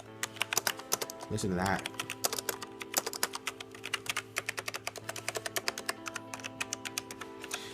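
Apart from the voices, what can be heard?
typing on Logitech G613 keyboard, smooth non-clicky keys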